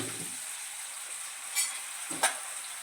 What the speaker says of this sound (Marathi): हे आपल्याला लालसर रंगावर भाजून घ्यायचं आहे